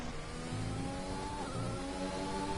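Onboard Formula 1 car engine on a qualifying lap at the Russian Grand Prix in a racing video game, a high steady engine whine with rising and shifting pitch, close and continuous with no talk.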